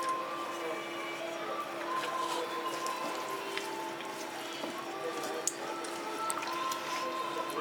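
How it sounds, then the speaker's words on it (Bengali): Prawns are folded into a thick batter, giving faint, wet squelching and soft dripping sounds in a quiet kitchen, with no clear rhythm. "আমার ঘোলটা রেডি হয়ে গেছে আমি মাছগুলোর মধ্যে মিশিয়ে দেবো"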